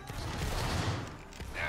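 Musket volley fired in a Roblox Napoleonic line-battle game, a dense burst of overlapping shots that swells and fades across the clip, heard amid voice chat.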